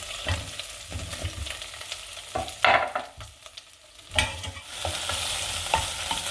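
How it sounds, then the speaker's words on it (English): Shrimp shells sizzle and crackle steadily in a hot pan, with occasional louder scrapes of stirring, and no one speaking. "You can hear them sizzling."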